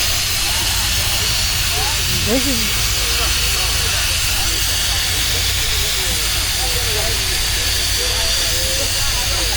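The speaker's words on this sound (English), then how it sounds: "There's a Foden steam wagon and a Foden" A Foden steam road locomotive at a steam rally in Kent lets off a loud, continuous hiss of steam that runs throughout, with people talking and a crowd murmuring beneath it.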